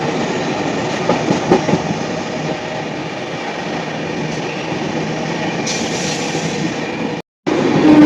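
Santragachi–Chennai AC Superfast Express running on the rails near Sullurpeta, a steady loud rumble with faint clickety-clack from the wheels, heard close from inside the coach before a brief dropout near the end.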